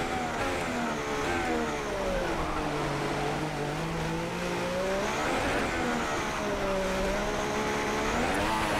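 An F1 race car engine in F1 2016 at Monaco's Monte Carlo circuit screams steadily and rises and falls in pitch as it accelerates through gears. It stays loud and continuous, with faint tyre squeal.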